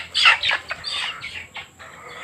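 Chicken clucking among banana plants outdoors, a quick series of loud, close squawking calls in an uneven rhythm, heard alone with no talk.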